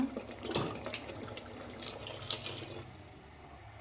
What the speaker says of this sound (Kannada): ಇದಕ್ಕೆ ನೀರು ಹಾಕೋಣ ಈಗ